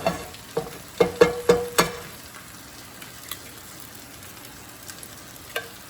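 Four eggs cracked one after another into a pan coated with cooking spray over medium-low heat, giving a quick run of sharp taps and splats in the first two seconds, then a faint, steady frying crackle with occasional small pops.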